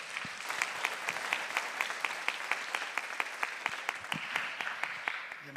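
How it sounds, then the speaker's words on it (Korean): A congregation at a church anniversary worship service and board chair installation gives a steady round of warm applause welcoming a pastor, the dense clapping sustained and even throughout. "우리 따뜻한 박수로 환영하도록 하겠습니다"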